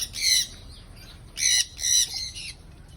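Large birds in a big aviary flight cage give three harsh, loud squawks in quick succession, with short quiet gaps between them.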